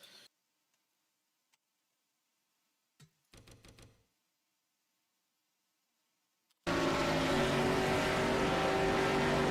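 Race cars roar around the track in a Talladega racing video game, a loud sustained engine drone that cuts in abruptly after several seconds of near silence broken by a few faint ticks and a short rattling burst.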